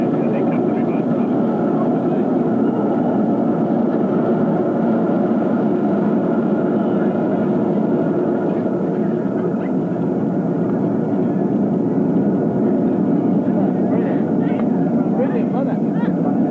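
A Concorde roars with reverse thrust after touchdown at Luton Airport, a loud, steady, broad jet rumble filling the whole stretch without letup.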